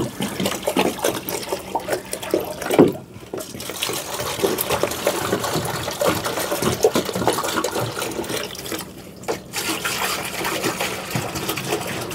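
Drinking water is poured into a container for dogs, a continuous splashing, gurgling fill heard up close with a couple of brief pauses and small knocks, without talk.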